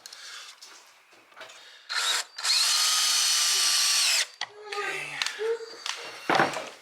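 A power drill drives screws into a wooden storage box, with two short bursts of whirring, one brief and one held for about two seconds, close by amid light handling clatter.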